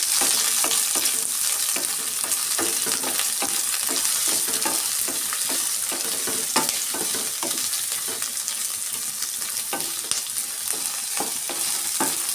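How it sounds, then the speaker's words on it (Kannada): Onion and garlic frying in a pan, a constant bright sizzle broken by regular scraping strokes of a spoon stirring the pan, close and without talk. "ಚೆನ್ನಾಗಿ ಫ್ರೈ ಮಾಡ್ಕೊಳ್ಳೋಣ."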